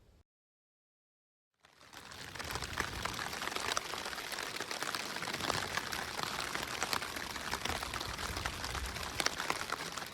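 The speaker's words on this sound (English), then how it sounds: "Woke up to the sound of rain on the outside of the tent, which is always kind of nice, especially if it's just a light rain." Light rain patters steadily on the outside of a backpacking tent at Split Rock Lighthouse State Park, a dense, even hiss of drops that starts after a short silence and continues with no talk.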